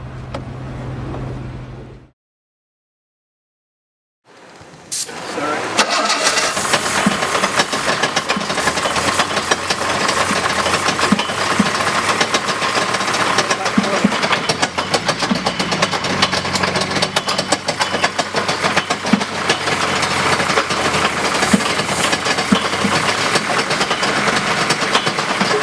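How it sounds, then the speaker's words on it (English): A steady mechanical drone with rattling, knocking undertones from a Jaguar E-type's drive shaft at idle runs continuously after a brief silence near the start. "That's the drive shaft. So it's not the engine making that noise"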